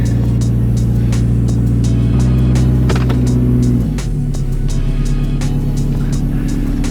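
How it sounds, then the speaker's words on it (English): An 80s Toyota car engine idles loud and close after sitting for two weeks, holding a steady rumbling drone that shifts pitch partway through as the revs settle into an even run. "I'll probably let the car run a few minutes outside just because it hasn't ran in a while."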